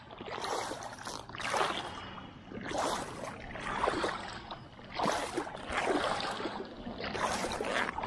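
Water splashes and pours in repeated surges as someone washes off outdoors, each gush rising and fading in an uneven rhythm, fairly close and moderately loud with no talk.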